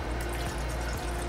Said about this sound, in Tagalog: Maglalagay ulit tayo ng tubig